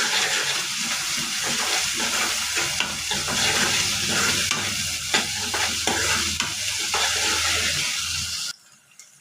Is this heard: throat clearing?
no